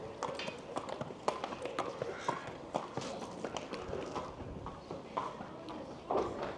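Horse hooves clip-clopping on hard ground at a racing stable, an uneven series of close, sharp taps at a walking pace, with people talking quietly underneath.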